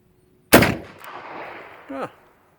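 A 6.5 Carcano deer rifle fires a single loud, sharp shot outdoors, followed by a rolling echo that decays over about a second and a half.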